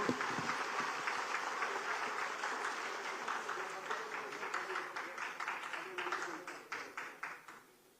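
A Chief Minister receives a sustained round of audience applause at a government event honouring 500 elderly couples. The dense clapping holds steady and fairly loud, then thins into scattered claps as it fades out.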